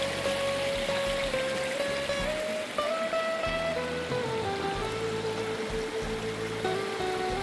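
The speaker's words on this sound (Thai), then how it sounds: "จะเป็นทางเดินลงทางไหลลงของน้ำตกนะฮะ" A waterfall in Loei province, Thailand, pours and rushes in a continuous steady wash of flowing water, close and fairly loud, with no voices.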